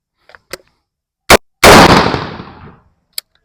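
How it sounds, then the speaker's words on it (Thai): A single loud handgun shot, fired by point shooting without sights, cracks close by and rings off in a decaying tail, with a few faint clicks and handling knocks before it and a small tick after. "ผมจะยิง จากท่าไฮ นะครับ โดยที่ไม่มีศูนย์เล็งนะครับ ใช้การยิงแบบ point shooting นะครับ"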